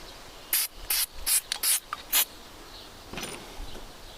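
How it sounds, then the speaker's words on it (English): A series of short, sharp aerosol bursts of Fluid Film rust-protection spray on a tool, about six in quick succession, then a fainter hiss and rubbing with an old diaper after a pause. "So I'll give it a little spray down with some fluid film."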